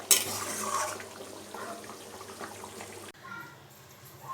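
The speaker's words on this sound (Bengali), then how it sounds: "ভালো করে একটুখানি নেড়ে নিই" A ladle stirs Bengali-style mutton curry in a pot, making wet scraping and clinking with soft sloshing, close and moderately quiet, ending in an abrupt cut to a quieter stretch.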